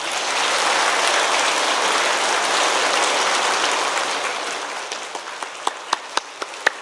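A church congregation at a Sunday worship service claps warmly and steadily, then the applause thins out into a few sharp, isolated claps near the end.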